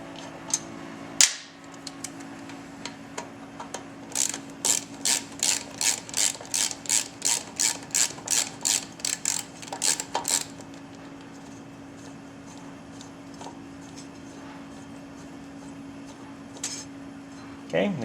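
A ratchet loosening the brake caliper bolts on a Victory motorcycle, a rapid run of crisp clicking pawl strokes close by over a steady low hum, with a louder clack beforehand and talk nearby.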